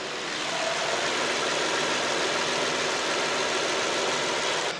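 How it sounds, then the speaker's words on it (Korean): A 2020 Kia K7 V6 engine idles steadily with a smooth, even hum and no revving, recorded close up in the open engine bay. "자, 엔진 소리 들어보셨는데요."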